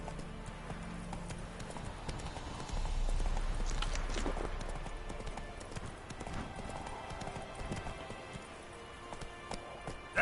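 Roach the horse galloping in the video game The Witcher 3, a rapid clip-clop of hooves over steady outdoor game ambience, moderately loud and continuous.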